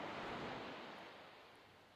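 Ocean waves break on a beach in a steady close wash of surf that slowly fades, with no voices.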